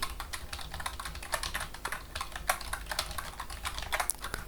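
A computer keyboard clatters under steady, quick typing as simple hello world code in C goes in, with crisp, close key taps in uneven bursts and no voices.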